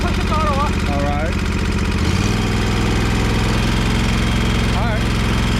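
A commercial walk-behind lawn mower engine runs close and loud with a steady throbbing drone, its note rising as the throttle goes up midway, while people talk over it.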